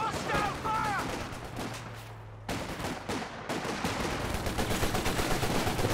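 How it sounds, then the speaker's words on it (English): In a Company of Heroes 2 2v2 match, Bren gun sections fire rapid bursts of gunfire and crackling volleys. A brief lull interrupts the shooting, and some faint in-game voices sit beneath it. "The double Bren sections now is making life very difficult for Stocky."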